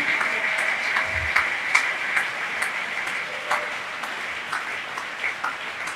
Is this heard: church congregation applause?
yes